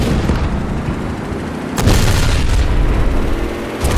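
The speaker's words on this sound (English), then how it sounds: "Howitzers, how I've missed you" Howitzer artillery fire in a video game: loud, dense booming rumble throughout, with two sharper blasts about a second apart, no voices.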